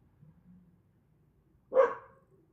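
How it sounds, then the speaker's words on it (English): A dog gives a single loud, close bark near the end, reacting to people outside a home, after a stretch of near silence with only a faint low murmur. "I apologize for my dog, but there's people outside."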